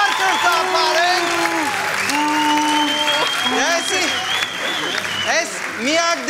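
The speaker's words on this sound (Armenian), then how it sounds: "Գաբրիելային բարձր ծափարենք" A studio audience claps steadily for the winning blue team on a sports club show, a continuous wash of applause with a voice and tonal sounds running over it the whole time.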